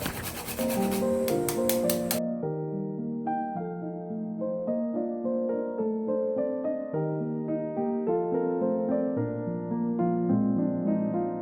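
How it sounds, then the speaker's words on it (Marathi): Fresh whole nutmeg is grated into a sweet lentil filling for traditional kadabu: about two seconds of quick, close rasping strokes, then music takes over for the rest. "अंदाजे अर्धा चमचा जायफळ अशा प्रकारे किसून घालावे"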